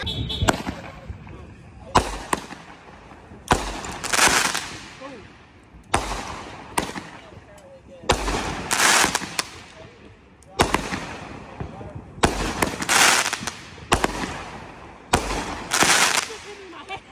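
Fireworks going off outdoors in repeated loud bursts with crackling, roughly every two seconds, and voices in the background.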